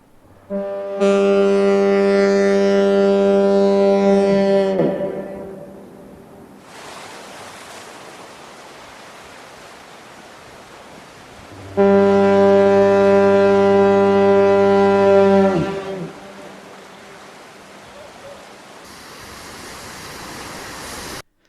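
Portland Bill lighthouse foghorn sounding two long, loud, deep harmonic blasts, each cut off with a short low grunt as the piston slows, separated by a quiet gap with faint surf-like hiss.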